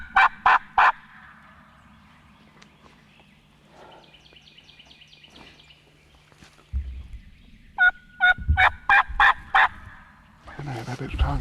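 Osceola wild turkey gobbling in the woods on public land during a hunt, several loud rattling gobble bursts at the start and again near the end, with quiet stretches, faint calls and light rustling between.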